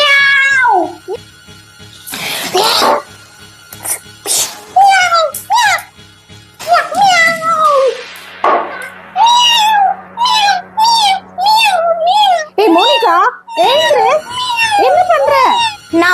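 A child imitates a cat, meowing again and again in loud, close, wavering cries with short gaps, sometimes in a whiny caterwaul, with a brief clatter in between.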